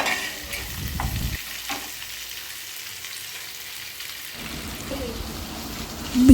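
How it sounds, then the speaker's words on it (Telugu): Thin-sliced tender okra frying in a pan while being stirred, a steady close sizzle with scraping stir strokes, quieter through the middle and louder again at the end. "ఈ బెండకాయలు వేగుతుండగా"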